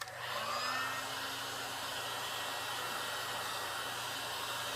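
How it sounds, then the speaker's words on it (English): A heat gun blows on the emblem of a 2001 Dodge Ram, a steady, close whooshing whir that holds evenly from start to finish with no talk. "So get your heat gun."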